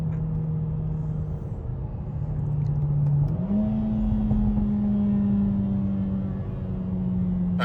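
Mercedes-AMG car engine droning steadily from inside the cabin, its pitch stepping up mid-clip on a downshift, with faint crackles from the exhaust under the continuous rumble.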